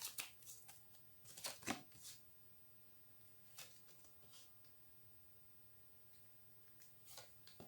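Tarot cards being shuffled in several short crisp riffling bursts with quiet gaps between, close and faint, without talk.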